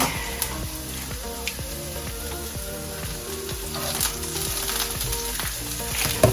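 Garlic fries in a pan for pasta with seafood. A steady, dense sizzle and crackle runs throughout, with faint background music and no talk.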